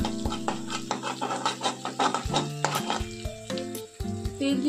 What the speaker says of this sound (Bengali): একটুখানি ভেজে নেব।